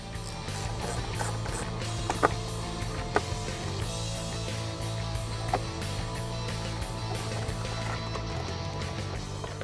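A ratchet tightens a screw from the back side while a Steeda ram air intake scoop is installed on a 2013–2018 Ford Focus ST. Scattered mechanical clicks sit over a constant droning hum.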